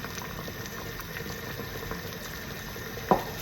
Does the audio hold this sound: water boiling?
yes